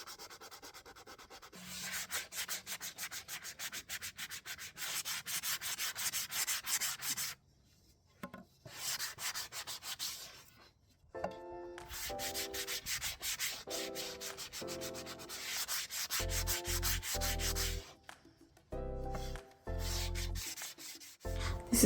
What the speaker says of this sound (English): I sanded everything with this 220 sponge to preserve the curves and to be able to get in the grooves